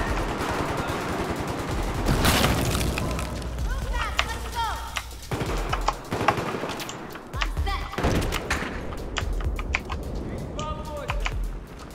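Battlefield game combat with a thrown grenade: dense gunfire and heavy thuds roll through, with one big blast about two seconds in and more booms and shots following at a steady, loud level.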